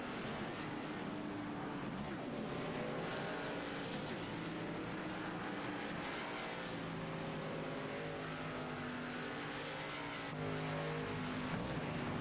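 Race cars in an AMA Pro Cup e-sport racing game at Michigan peel away from pit road, their engines a steady, dense roar with shifting tonal whines throughout, rising slightly louder near the end.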